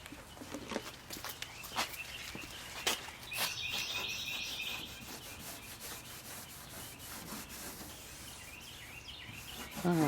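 Steady rubbing strokes clean the trim on an old brown truck during a cosmetic refresh, a continuous scrubbing texture with occasional sharper scuffs and knocks, at moderate level without talk.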